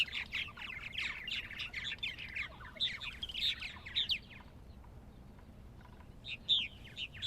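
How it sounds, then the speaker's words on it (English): Purple martins chirp and warble in quick bursts, a lively stream of bird song that pauses, then resumes with a couple of sharper calls. "And the bird song is just marvelous."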